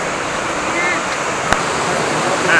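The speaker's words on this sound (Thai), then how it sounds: "นี่ด้านหลังผมนะครับเป็นน้ำตกเจ็ดพดใหญ่นะครับ" Jet Khot waterfall in Saraburi, Thailand, heard up close as a steady, loud, hissing rush of falling water with no pauses, one brief faint click in the middle.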